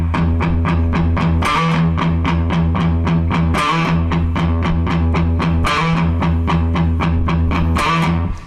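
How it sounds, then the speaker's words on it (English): A loud distorted electric guitar chugs through a riff, rapid repeated palm-muted notes with periodic accented chords, steady and driving. "They turn the distortion on and it goes like this."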